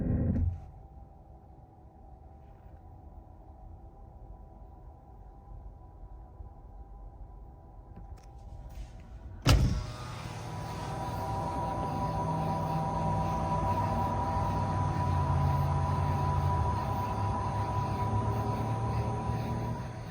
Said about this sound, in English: So that's like my favorite part about this whole car when I go in reverse. It just sounds so badass.